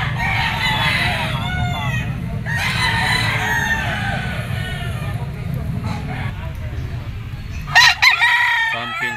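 A yellow-legged Pumpkin Sweater gamecock rooster crows repeatedly, its calls rising above a steady murmur of nearby talk and crowd noise at a pet market, with a louder burst near the end.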